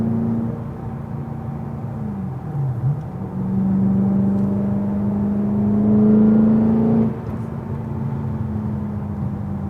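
BMW E92 M3 with its S65 V8 droning steadily while driving, a dip around the third second before the engine note climbs under load, then eases off near the end.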